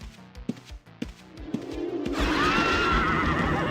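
A horse in Ultima Online gives a loud, drawn-out whinny after a few sharp thuds and taps, as a guard kills it.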